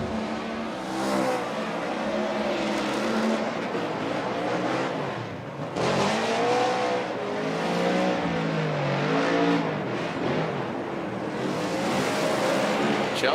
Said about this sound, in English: the BC Racing Nitto Tire Ford Performance Mustang RTR Spec 5D